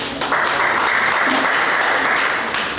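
An audience at an art and poetry exhibition ceremony claps steadily for about three seconds, a dense, even burst of applause filling the room.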